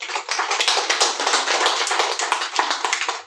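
An audience at an indoor self-development workshop claps in a quick burst of close, sharp, uneven hand claps that runs steadily for a few seconds.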